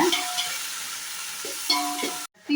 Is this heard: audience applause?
no